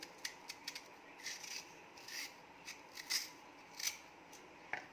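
A knife slices strips from a raw unripe mango, giving faint, close, crisp cutting strokes in a loose irregular rhythm with quiet gaps between them.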